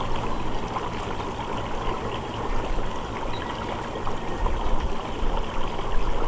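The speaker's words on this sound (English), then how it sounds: "this is about how the diffusion and the bubbles should look." Air bubbles diffusing through water in a homemade worm tea brewer fed at about 5 psi, a steady close bubbling and trickling hiss that runs without pause and no talking.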